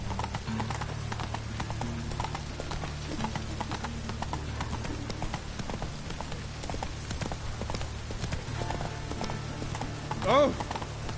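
Rapid clip-clop of a horse's hooves galloping steadily in The Witcher 3, with a low rumbling bed beneath and a short whinny near the end.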